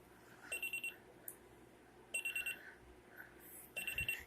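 A Sony Dream Machine analog alarm clock alarm going off in three repeating bursts of rapid high-pitched electronic beeps, each group separated by short pauses, close and fairly quiet in an otherwise still room.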